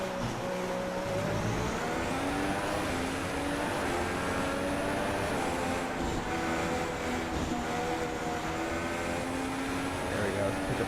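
F1 car engine revving and accelerating in a racing video game at the United States Grand Prix, a continuous loud whine with rising and falling pitch sweeps over a busy, dense background of game sound throughout.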